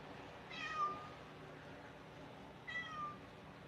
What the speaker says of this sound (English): She's so loud. Come here, Minnie. Come here. Kitty, kitty